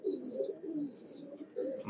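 Pigeons of Silver and Beji breeds coo at a home loft, three soft throaty coos in a row close by, with a faint higher chirp over each one and no voices.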